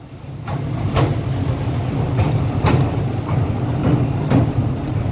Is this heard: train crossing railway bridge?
yes